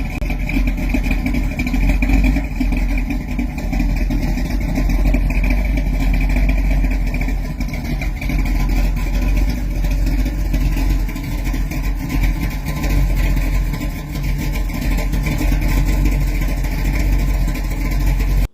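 A Mopar 318 V8 in a Plymouth Scamp runs steadily with a deep, throaty rumble for the whole stretch, idling with slight revs, close up and with no voices.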